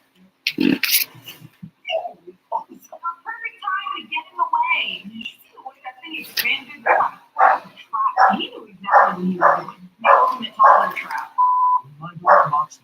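A dog barks, yips and whimpers in a series of short, close, loud calls that grow more rhythmic toward the end, with a person talking at the start.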